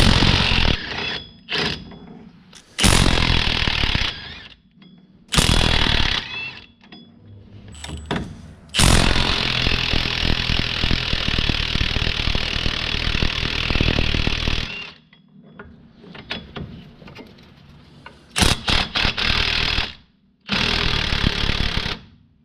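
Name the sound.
power tool removing rear hub nuts on a 1965 Corvair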